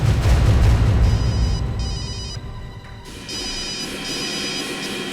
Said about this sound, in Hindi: हॉस्पिटल से फोन?